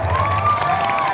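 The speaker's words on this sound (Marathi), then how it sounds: "जोरदार टाळ्या पाहिजे" A live folk theatre (vagnatya) audience breaks into a brief burst of applause and cheering, a dense, steady roar of clapping and voices throughout the short moment.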